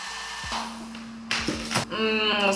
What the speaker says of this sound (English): and then blow dry.